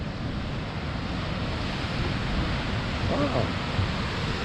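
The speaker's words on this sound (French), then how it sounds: "Les vagues passent dedans." Ocean waves wash into a hole in a rocky coastline on São Miguel, making a continuous broad roar and rush mixed with wind buffeting, with a brief faint voice near the end.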